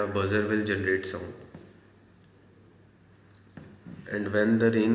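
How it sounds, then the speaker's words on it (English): A piezoelectric buzzer on a homemade rain detector sounds a continuous shrill tone through the whole stretch while someone speaks over it at close range. "Means the rain is detected and a buzzer will generate sound."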